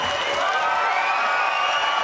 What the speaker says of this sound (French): regardez la foule qui l'acclame, l'applaudit